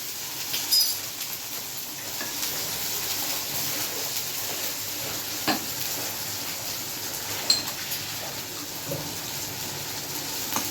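Garlic sizzling in hot oil as tempering for a green vegetable curry; a steady, moderate crackling hiss with a few sharp pops and clinks of a utensil scattered through.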